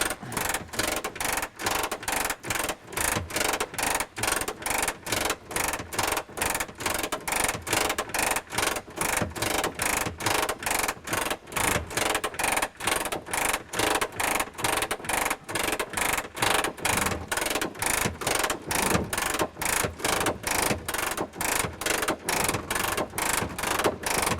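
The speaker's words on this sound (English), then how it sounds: "just crank the gear down, and away it goes." Landing gear of a Messerschmitt Bf-108 being cranked down by hand, a steady fast mechanical clicking ratchet repeating evenly and loudly throughout with no talking.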